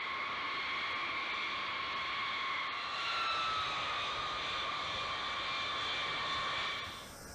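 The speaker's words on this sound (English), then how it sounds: "This is where multiple B-52s taxi and take off in close formation" B-52 bombers taxiing and taking off in close formation, a loud sustained jet engine roar with steady high whining tones that builds slightly, then thins out at the end.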